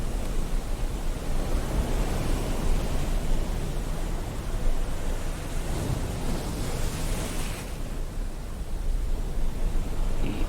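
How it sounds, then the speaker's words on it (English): Raking waves soundscape from a myNoise generator: dense, hissing surf noise washing in continuously, broad and loud, with a slight ebb near the end and no voices. "Raking waves."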